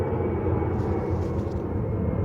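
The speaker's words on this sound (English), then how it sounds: "there's a bloody loud aeroplane passing over." A steady, loud roar of a passing aeroplane fills the air with a broad low rumble, continuous throughout.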